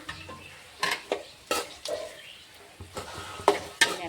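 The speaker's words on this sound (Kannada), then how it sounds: "ಇವಾಗ ನಾವು ನೀಟಾಗಿ ತಿರುಗಬೇಕು ಮೆತ್ತಗಾಗತ್ತನ ಫ್ರೈ ಮಾಡ್ಕೋಬೇಕು" Beans and tomato being stirred and fried in a pan for millet upma: irregular spoon scrapes and clanks against the metal over a light sizzle, close up.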